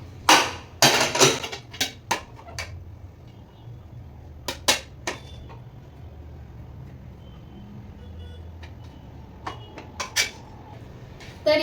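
Cooked, cooled everyday non-basmati rice is served out onto a plate for corn fried rice, giving sporadic sharp clinks and scrapes of a spoon against the dish over a low steady background hum.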